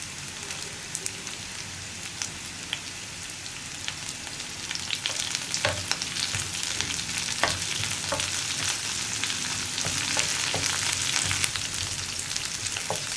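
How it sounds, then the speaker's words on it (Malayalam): Curry leaves sizzle in hot oil with dried red chillies while a Kerala chena payar erissery is cooked, giving a steady crackling hiss that grows louder and busier, with sharp pops throughout. "ഇനി നമുക്കിതിലേക്ക് കറിവേപ്പില ചേർക്കാം."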